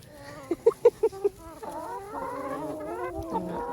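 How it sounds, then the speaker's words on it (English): Young chickens in chicken tractors on a pasture farm cluck in five quick, close bursts, followed by a looser chorus of overlapping calls from the flock. "we're headed towards those chicken tractors where the little babies are to give them some feed"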